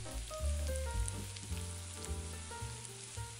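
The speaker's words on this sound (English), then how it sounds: "When we add the spaghetti, we're going to sauté it slightly in the chilies and the garlic, coating it in the seasoned oil thoroughly." Spaghetti sautéing in chili and garlic oil in a skillet for spaghetti all'assassina, a soft steady sizzle under a low musical background.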